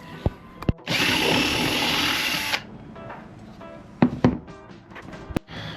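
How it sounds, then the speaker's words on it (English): A power drill bores a hole for a sink in a Westerly Centaur sailboat, running in one steady burst of about two seconds, followed by scattered clicks and knocks. "Right, so I've just drilled a hole in there."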